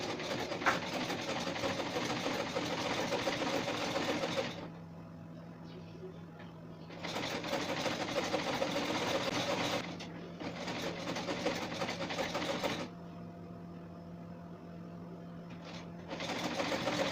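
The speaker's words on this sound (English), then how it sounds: "sew it, just like this, like so" A sewing machine stitches a bustier top in several close, steady whirring bursts, pausing briefly between runs, with no voices over the motor.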